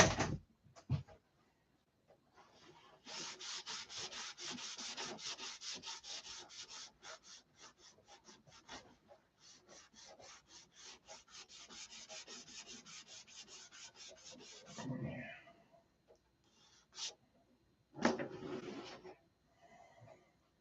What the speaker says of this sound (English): You got to sand. That's all there is to it.